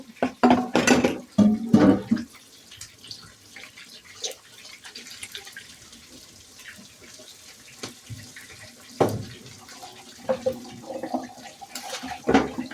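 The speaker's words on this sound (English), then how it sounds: "We're gonna put some water in it and the soy sauce seasoning." Water splashing into a pot of noodles on a stovetop beside orange chicken, a few loud bursts of pouring and clattering at the start, then quieter intermittent handling noises.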